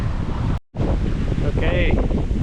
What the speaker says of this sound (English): Okay, wind's picking up still.